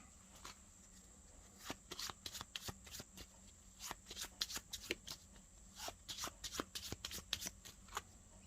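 Cards from the board game Valley of the Kings: Afterlife are drawn and handled close by: rapid, irregular flicks, slides and snaps of card stock, quiet, with no talking.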